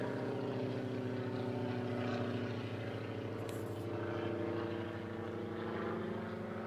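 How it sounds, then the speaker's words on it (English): A propeller airplane drones steadily overhead beside a fishing lake, a faint, continuous hum with a slightly wavering pitch and no voices. "The plane going overhead"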